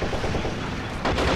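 Dense rumbling bursts of cannon fire and explosions in the game Behind Enemy Lines: Assault 2, loud and continuous with a heavier blast near the end as a tank is blown up.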